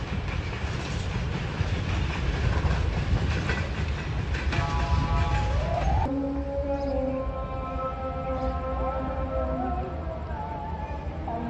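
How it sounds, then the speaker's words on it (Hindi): The 18 Down Millat Express with an HGMU 30 diesel locomotive passing at speed through Malir railway station, a loud continuous rumble and wheel clatter with a long horn-like tone sounding through the second half. "अच्छी रफ्तार में गुजरी है 18 डाउन मिल्लत एक्सप्रेस HGMU 30R"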